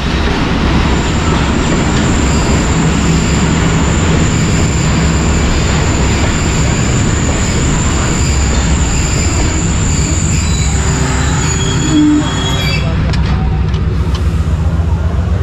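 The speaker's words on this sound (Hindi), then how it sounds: "ट्रेन अप्रोच कर चुकी है चक जुमला जंक्शन रेलवे स्टेशन पर" A train pulls into Chak Jhumra Junction railway station on the Badar Express route from Lahore to Faisalabad. It makes a loud, steady rumble, with a high wheel squeal held for most of the approach and clanking near the end. No one speaks.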